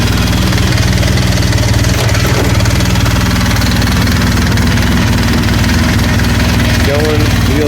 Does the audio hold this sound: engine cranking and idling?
yes